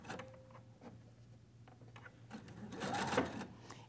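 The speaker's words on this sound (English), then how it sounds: "Now it's just straight sewing, and I'm going to stop at the stitching line." A sewing machine stitching a quilt block in straight lines, close and clattering in quick bursts with short pauses between runs, the needle's rapid chatter loudest near the end, with no talking.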